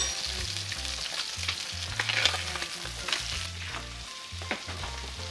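A snapper fillet fries in a pan with a steady, fairly quiet sizzle and crackle, small pops scattered throughout and a low hum underneath, no voices.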